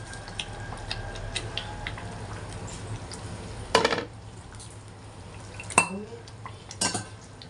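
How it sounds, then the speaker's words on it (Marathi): Lightly fried paneer pieces are added to masala in a pan, giving soft kitchen clatter and stirring under a low hum, with a few louder metallic clanks of utensils against the pan. "आता यात मी हे जे फ्राय करून ठेवलं, हलकंसं फ्राय करून ठेवलं ते पनीर मी आता ॲड करते."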